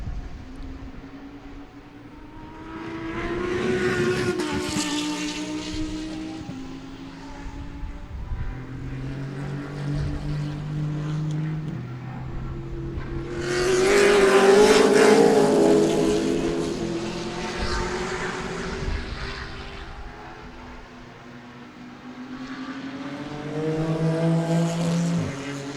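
A pack of GT race cars sweeps past at Sebring, engines rising and falling in long overlapping roars as several machines approach, peak loudly and fade into the distance.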